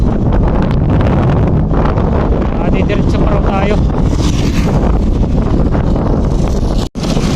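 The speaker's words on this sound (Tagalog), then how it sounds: "lakas talaga ng hangin." Loud, continuous wind buffeting the microphone outdoors on the uphill road to Tagaytay, roaring steadily throughout, with a person talking briefly underneath.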